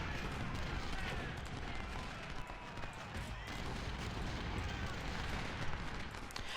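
Artillery and gunfire from a strategy video game battle, likely against a stone wall, form a dense, continuous roar of distant blasts and rumbling that stays loud throughout without clear pauses.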